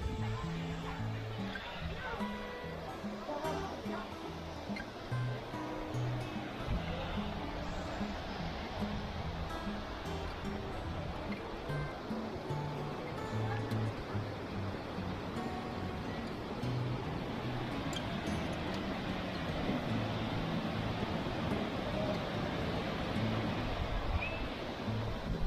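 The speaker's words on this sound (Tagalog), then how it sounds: "So ito yung mas malapit na parang area dito sa falls. Kung maririnig nyo yung tubig." Water rushes steadily at a waterfall near Red Rock in Waterton, Alberta, a constant broad roar filling the whole stretch, with people chatting over it.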